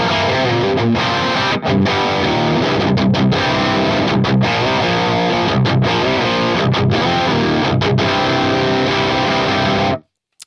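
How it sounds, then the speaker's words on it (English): Electric guitar played through heavy, grainy distortion from an AX8 unit, chords ringing loud and steady for about ten seconds before cutting off abruptly. "So you can hear it's a very grainy kind of distortion."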